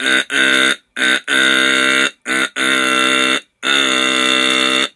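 A voice imitates a loud, harsh game-show buzzer in four sustained bursts separated by short gaps, the last one held longest.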